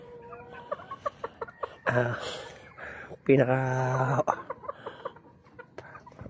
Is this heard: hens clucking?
yes